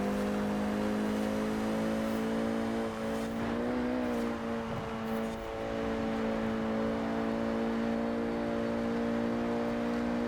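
A Renault Clio RS 197 in Forza Horizon 4 holds a steady, fairly quiet cabin engine drone with a smooth harmonic hum, a brief dip and slight pitch wobble midway, then settles back to an even tone.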